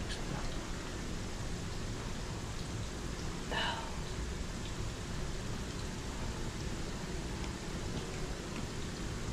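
Steady rain during a typhoon, falling as a dense, even hiss of drops on surfaces, constant and moderately loud throughout with a brief faint knock partway through.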